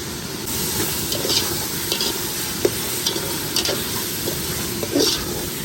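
Ginger garlic paste sizzles and fries steadily in hot oil, with a spoon stirring through it and occasional scraping taps against the pan; a continuous, fairly loud sizzle with no voices.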